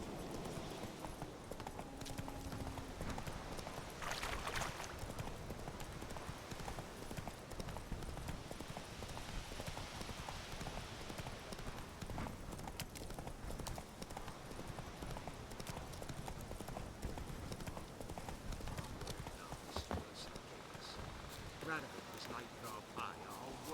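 Geralt's horse Roach trots in with a steady, rhythmic clip-clop of hooves in The Witcher 3, mid-distance and continuous, under ambient outdoor sound and intermittent talk.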